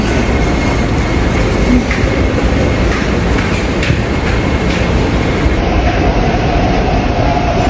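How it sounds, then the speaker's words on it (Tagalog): A train runs at a Hong Kong station platform, giving a loud, steady rumbling roar that fills the whole stretch, with a faint high electric whine rising near the end. "Dito tayo mag-antay ng train."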